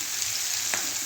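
Onions and chillies sautéing in a frying pan, a steady dense sizzle throughout with a brief stirring scrape near the end, close and even with no talk.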